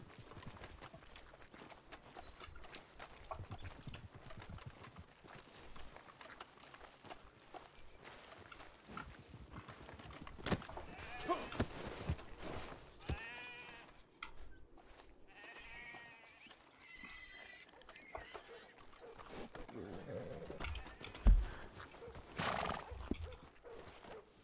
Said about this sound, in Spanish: Y en efecto era su caballo.